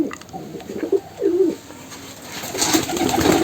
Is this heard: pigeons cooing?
yes